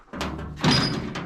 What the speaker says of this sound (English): I shut the door, and it actually worked.